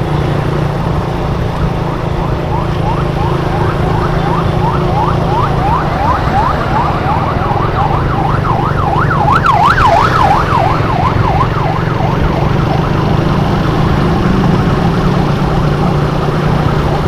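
An ambulance siren wails in a rising and falling pattern as it passes on a road near a bridge, growing louder toward the middle and then fading, over steady traffic noise.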